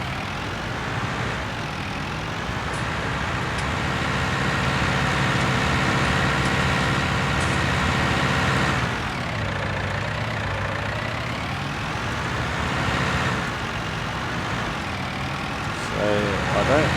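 A tractor engine idles in the Farm Simulator video game, a steady low diesel rumble that runs throughout with slight shifts in pitch, with someone talking over it.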